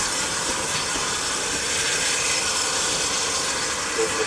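GWR 1400 class tank locomotive No. 1420 propelling an auto train into Buckfastleigh station on the South Devon Railway, a steady broadband hiss of steam and rolling noise, close and continuous.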